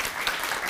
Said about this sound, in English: can we give them all a round of applause to thank them for turning up tonight